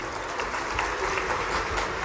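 A crowd at a public event led by Chief Minister Mohan Yadav in Khargone, Madhya Pradesh, gives dense, steady applause that holds at an even level for the whole stretch.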